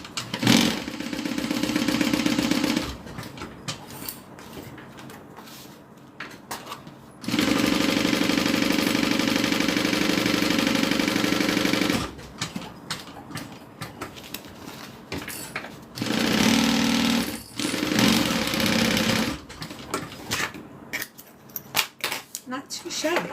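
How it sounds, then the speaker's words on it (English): A domestic sewing machine runs through two layers of cotton with its tension turned down, in bursts of steady whirring broken by stops, clicks and handling clatter, close by. "My machine really likes thicker layers, so I'm going to try to get my tension down as much as possible to sew these."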